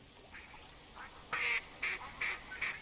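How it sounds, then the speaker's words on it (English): Duck calls sound in the hunting game theHunter Classic, a rapid string of nasal quacks repeating in quick succession, loud and close with no talking. "I don't let it go through the full sequence of duck calls"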